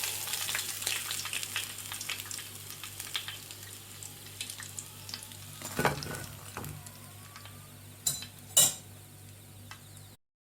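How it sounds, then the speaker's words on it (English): Pinwheel samosas deep-frying in hot oil give a steady, close sizzle with a few sharp metallic clinks of utensils near the end. "All my pinwheels are finally fried."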